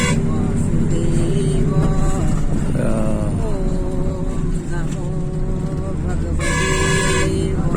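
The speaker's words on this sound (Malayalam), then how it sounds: "എല്ലാം ഹോണടിച്ച് പോവാണ്." Car and truck horns honk repeatedly on a winding forested mountain road in the Himalayas near Gangotri, sounding over steady road noise and background voices, with a bright, loud blast near the end.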